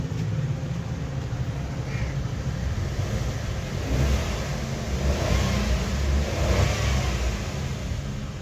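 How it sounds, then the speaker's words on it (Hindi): A Suzuki Wagon R engine, just fitted with a replacement AC compressor clutch coil and pulley, revs steadily from idle as the car is gently accelerated, a constant mid-pitched hum that swells slightly, with no talking. "हल्का सा गाड़ी को एक्सेलरेट करते हैं, फिर चेक करते हैं कोई बाहर नॉइस तो नहीं है।"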